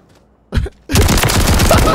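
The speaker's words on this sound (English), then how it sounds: "this shotgun's crazy" An automatic shotgun firing in a video game: a brief loud blast, then a dense rapid run of booming shots close up, no talking.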